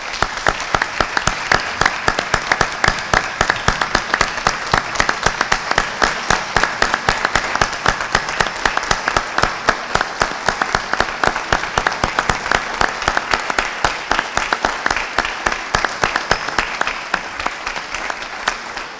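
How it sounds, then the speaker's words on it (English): A town meeting audience breaks into sustained, dense applause that continues steadily for the whole stretch, heard up close with no speech over it. "Please give a round of applause for Pam Dukeman."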